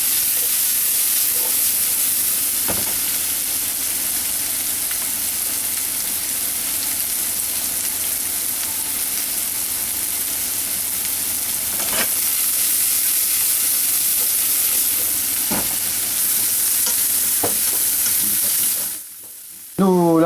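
Smoked lardons and mushrooms sautéing in a pan, a loud continuous close sizzle and hiss with scattered stirring knocks, cutting off sharply near the end.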